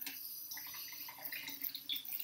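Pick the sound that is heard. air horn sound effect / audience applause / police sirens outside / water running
water running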